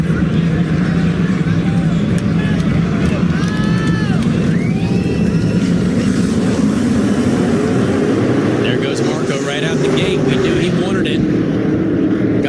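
SRX race cars roar away at the green flag start at South Boston Speedway, a loud, dense wall of engine noise with rising pitch as the field accelerates, over a race commentator talking throughout.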